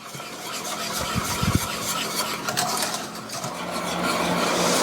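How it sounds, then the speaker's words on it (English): Coffee ice cream base with vanilla being mixed together in a pot, a continuous rasping, rubbing stir with a few soft knocks near the start, steady and close with no talk. "I'm going to mix that all together good."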